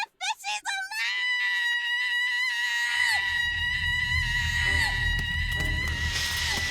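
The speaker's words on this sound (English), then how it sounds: "That was a drawn-out Wilhelm scream." A long, drawn-out Wilhelm-style scream in the Gibbous Cthulhu adventure game, a loud sustained wail over a busy game soundtrack after a few brief shouts at the start.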